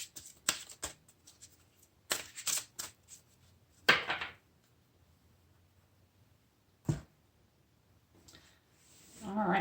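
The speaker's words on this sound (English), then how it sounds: "Let me shuffle these cards that I'll be using again." Several quick riffles and snaps of tarot cards being shuffled, close up, separated by quiet gaps, with a rising rustle at the end.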